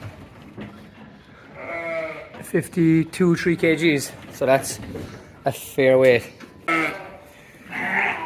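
Sheep and lambs bleat repeatedly in a pen, several loud close calls in irregular bursts, while someone speaks briefly between them.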